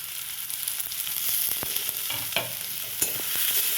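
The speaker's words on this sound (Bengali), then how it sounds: "এবার ভালোভাবে মিশিয়ে নেওয়া হচ্ছে" Onion, garlic, ginger and chopped tomato fry in a pan for ghugni while a spoon stirs them, giving steady close sizzling broken by sharp scrapes and clinks of utensil against metal.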